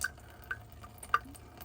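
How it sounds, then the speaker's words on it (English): Water drips by an RV water pump, with a few faint, sparse plinks at irregular intervals over a quiet background. "water dripping here"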